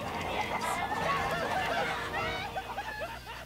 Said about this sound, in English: Apparently chickens like MODOK.